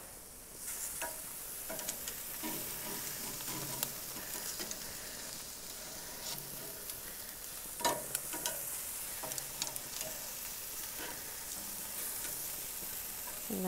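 Skewers frying at 400 degrees give off a steady, close sizzle, with scattered pops and scraping clicks as they are stirred and turned, and no talking.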